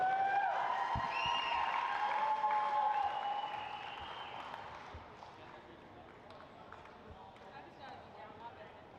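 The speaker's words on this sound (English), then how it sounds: "Give them all a big round of applause." Audience clapping at a powerlifting awards ceremony, moderately loud for about three seconds, then fading into a softer, sustained patter with some shrill whistle-like tones at the start.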